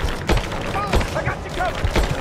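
Gunfire from the video game Rise of the Tomb Raider crackles in short repeated bursts under shouted combat dialogue, with a few sharp reports standing out near the front.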